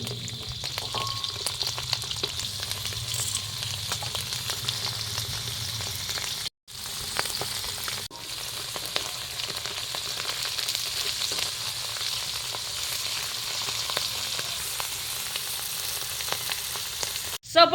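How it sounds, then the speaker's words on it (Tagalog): Dried fish sizzling and crackling in hot oil in a pan, a steady frying hiss with occasional clinks and brief pauses. "prito tayo ng daing"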